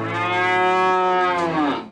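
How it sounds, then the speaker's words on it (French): A cow gives a single loud, close, sustained moo lasting nearly two seconds, heard alone without talk. "On va entendre la vache, elle fait comme ça."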